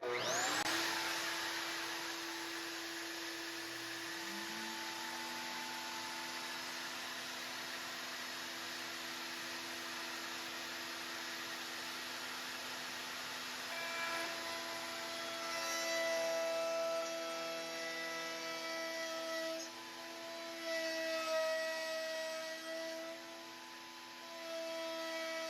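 Router bit cutting through a plywood piece with two layers of veneer on top, a steady loud whine with droning motor hum that runs nearly continuously, with pitch shifts as the cut progresses.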